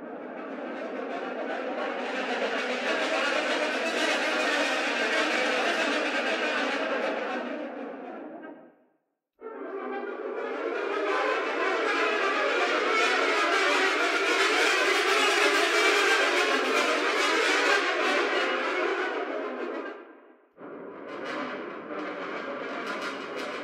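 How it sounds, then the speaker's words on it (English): Stopped, muted French horns from a sample library, two horns playing sustained brassy tones in long held phrases with a brief gap, then a shorter final note, heard alone. "everything was recorded muted. In this case, in French horns, stopped."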